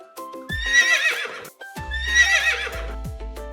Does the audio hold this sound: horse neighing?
yes